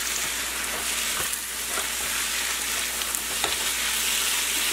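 Prawns and curry leaves frying on a low flame for a Chettinadu-style fry, a steady broadband sizzle with occasional scraping stirs of a spoon through the pan, close and continuous with no talking.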